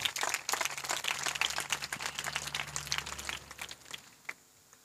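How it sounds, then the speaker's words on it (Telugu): An audience in a church claps during a festive homily, a dense patter of many hands that starts loud, then gradually thins and fades to a few scattered claps. "గట్టిగా చప్పట్లు కొట్టండి"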